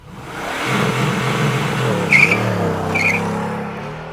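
A Mercedes-AMG GT R in race mode builds steady, loud engine drone while accelerating, with a couple of brief high-pitched squeals rising over the continuous roar.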